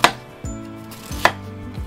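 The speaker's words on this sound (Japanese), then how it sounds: "玉ねぎは1センチ、幅1センチに切って角切りにしていきます。" A knife cuts an onion into 1 cm dice, giving two sharp, close chops against the cutting board with quiet pauses between them and no talking.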